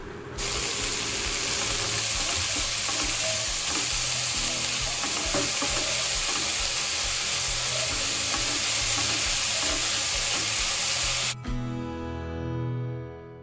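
Finely chopped palak spinach fries in a hot oil tempering for spinach chutney, giving a loud, steady sizzle with scraping spoon strokes from continuous stirring. The sizzle cuts off abruptly near the end, leaving softer clinks and rattles.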